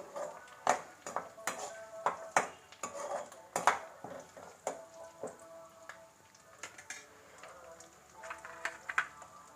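Chopped garlic and ginger stirred in a cooking pan, with repeated sharp clinks and scrapes of a spoon against metal over a faint background sizzle, uneven in rhythm.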